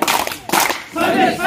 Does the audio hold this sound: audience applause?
yes